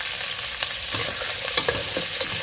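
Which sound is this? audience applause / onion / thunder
onion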